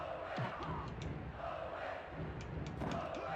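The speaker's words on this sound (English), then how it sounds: "Crowd, they're on their feet." A video game crowd in WWF Attitude on the Nintendo 64 roars and cheers during a wrestling match, a steady, loud arena swell that rises and falls throughout.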